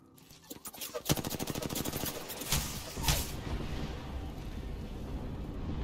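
Gunfire in an online shooter game: rapid automatic bursts rattle loudly at first, followed by further shots and a dense, continuous din of game noise.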